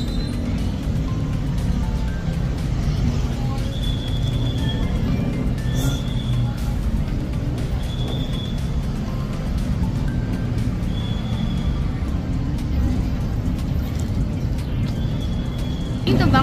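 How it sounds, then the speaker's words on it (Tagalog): Heavy, stalled street traffic at a Bangkok market, with a steady loud engine and road rumble throughout, several short horn-like tones recurring, and people talking over it. "Malala ang traffic dito, guys. Hindi gumagalaw."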